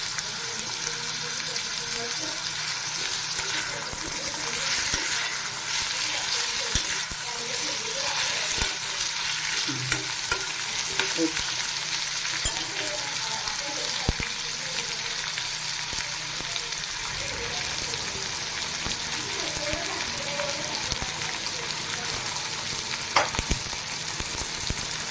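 Tomatoes sizzling and frying in a pan with French beans over a raised gas flame, with a steady hiss and scattered scrapes of a spoon stirring throughout, close and continuous.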